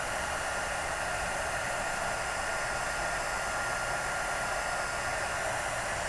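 Heat embossing tool blowing over embossing powder on a papercraft piece, a steady loud whooshing fan-and-air hiss held without change throughout.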